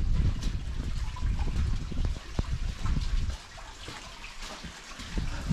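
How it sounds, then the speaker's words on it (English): Steady rushing water from a waterfall in Capitol Reef National Park, Utah, heard as continuous broadband noise, fairly close, with footsteps and handling sounds over it. "I hear a waterfall."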